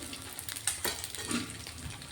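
Rice and potato snacks frying in hot oil until red and crisp, giving a soft, steady sizzle and crackle with faint stirring clatter.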